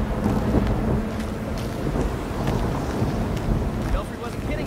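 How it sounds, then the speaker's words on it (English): Storm wind in Gotham Knights roars as a steady, dense, gusting rush, with deep rumbling throughout and no clear pauses. "Belfry wasn't kidding about this storm."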